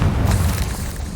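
A Confringo spell explodes in the video game Hogwarts Legacy, a short, dense booming blast that fills the moment with low rumble and a broad burst of noise.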